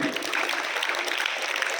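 Students at a uniformed-movement camp clap together, a dense, steady burst of applause filling the whole short stretch.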